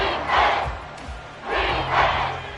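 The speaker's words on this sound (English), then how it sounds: "Crowd on their feet." A football stadium crowd at a Lions versus Commanders game roars in two loud swelling waves of cheering, rising, easing briefly, then surging again, with no clear speech over it.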